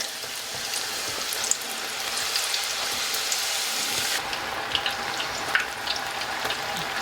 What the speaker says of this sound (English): Getting a little frying action going on.